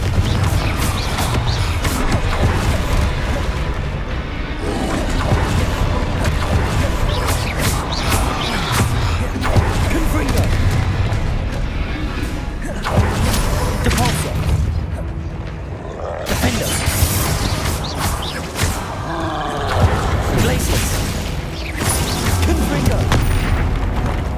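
Repeated booming blasts from the Confringo explosion spell in Hogwarts Legacy ring out under dense, continuous game action and music, loud and close, with bursts of crashing impacts spread through the fight.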